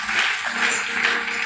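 A church audience at a ministers' retreat claps hands together in a steady, moderately loud patter that carries on throughout, with no voices over it.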